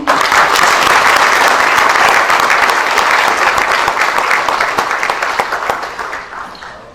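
An audience at a COEP gathering in Pune breaks into strong, sustained applause that fills the room and then gradually tapers off toward the end.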